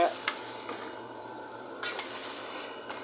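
Spinach stirred in a cooking pan, with a few scraping clinks of a utensil against the pan over a soft background sizzle.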